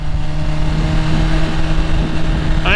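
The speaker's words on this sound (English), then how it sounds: "You got the rev of the stock exhaust." A BMW S1000RR motorcycle with its stock exhaust idles and revs steadily and loudly up close, the engine note holding a constant throb throughout with a brief rising rev at the very end.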